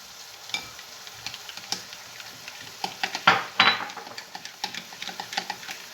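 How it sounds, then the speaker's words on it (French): Three eggs being beaten in a mixing bowl for a cake, fast irregular clicking and scraping strokes, close and fairly quiet, with a brief wet swishing burst partway through. "On a donc mis les 3 œufs dans le saladier et on va les battre."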